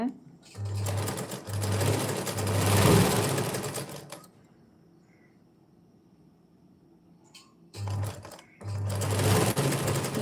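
A sewing machine stitches the hem of a long frock in steady mechanical bursts, stopping for a few seconds midway before running again, with someone talking over the stitching.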